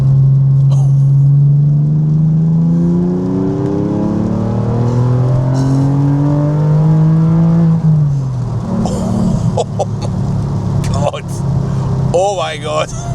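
A Porsche Boxster fitted with a loud aftermarket exhaust pulls hard through rising engine notes in one long climb, then drops and picks up again with crackling pops, heard from inside the car.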